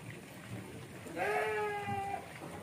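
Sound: goat bleating, bought for qurban sacrifice

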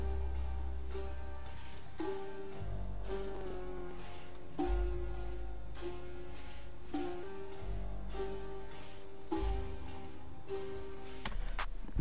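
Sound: pitched-down, time-stretched sample in FL Studio trap beat

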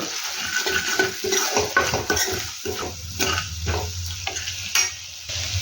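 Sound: frying masala with spices in a pan

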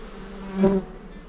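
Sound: honeybees buzzing during beehive inspection

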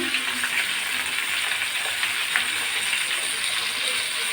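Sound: pointed gourd (potol) frying with salt in a pan

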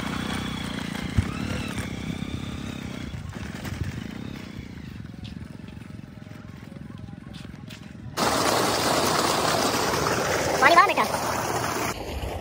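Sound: motorcycle ride along field bunds to tubewell

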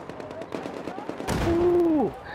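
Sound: gunshots from the video game Battlefield 4

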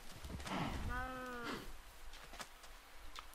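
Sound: cows mooing in Minecraft video game

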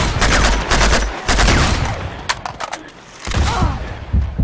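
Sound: gunfire in the video game Uncharted 2

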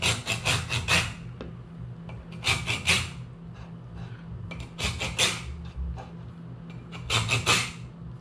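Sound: sawing into an ostrich eggshell

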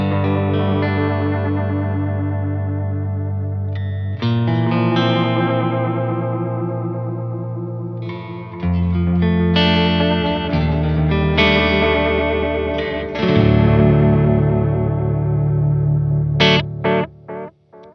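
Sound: guitar through reverb pedal with modulation

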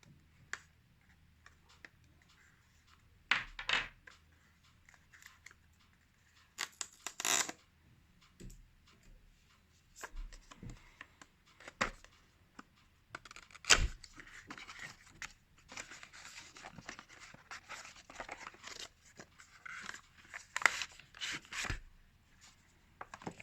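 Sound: unboxing Xiaomi wireless earphones packaging

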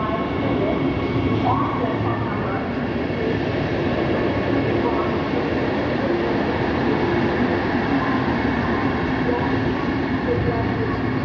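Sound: train at a railway station

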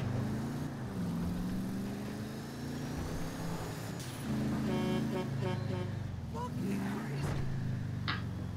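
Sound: train passing in video game Grand Theft Auto V

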